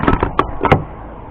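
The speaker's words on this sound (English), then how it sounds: "Let's just try that door." A few quick metallic clunks and taps of a van door handle being worked, close by and brief.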